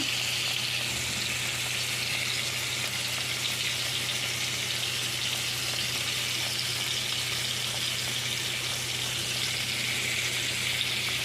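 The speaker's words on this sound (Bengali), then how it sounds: "আর এখানে গোল গোল আলু ভাজা হচ্ছে।" Round potato slices, cut for a vegetable labra dish, fry in hot oil with a steady, close, even sizzle that carries on unbroken, with no talking.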